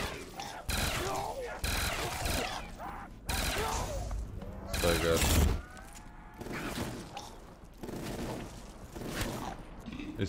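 Rapid automatic gunfire from a weapon in a custom Call of Duty zombies map, sounding in loud sustained bursts with brief gaps, mixed with game sound effects.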